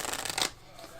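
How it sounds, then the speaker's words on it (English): Standard riffle shuffle of a deck of playing cards, a brief close fluttering burst of cards snapping together that stops abruptly. "first doing the standard shuffle"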